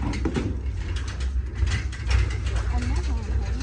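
A winch mechanism clanks and ratchets as a V-hull rescue boat is lowered into floodwater, a busy run of mechanical clicks and grinding close by, with voices faintly in the background.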